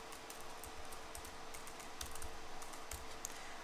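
Soft, quick keystrokes tap on a computer keyboard as a password is entered, a brief irregular run of faint clicks in a quiet room.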